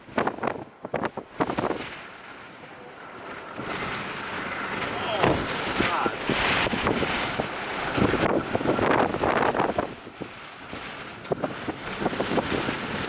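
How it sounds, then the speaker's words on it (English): Strong gusting inflow wind near a damaging tornado in Selden, Kansas, buffets the microphone with loud, uneven rushing roars that swell and drop throughout. "The inflow jet's gonna hit us."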